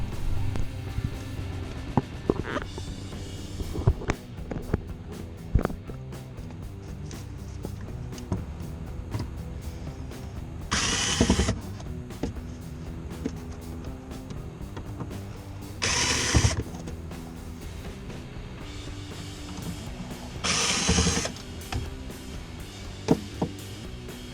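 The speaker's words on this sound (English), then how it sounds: "Next is we got to remove these 3 screws to get access to the fuel pump and disconnect that." Ratchet clicking as three screws are backed out over the fuel pump access on a Volkswagen Corrado during fuel tank replacement, with bursts of fast ratcheting and scattered mechanical clicks at close range, no talking.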